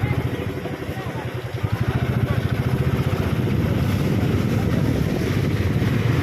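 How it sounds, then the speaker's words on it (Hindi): A motorcycle rides a rough, broken mountain road on the way to Kedarnath, its engine putting out a steady, loud, near rumble that runs through the whole stretch. "बाइक का सफ़र"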